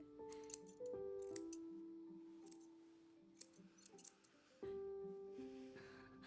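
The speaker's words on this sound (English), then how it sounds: "Ooh, those are some rusty scissors." Rusty scissors cutting hair in the video game Tell Me Why, heard as a few brief snipping clicks over sustained game music.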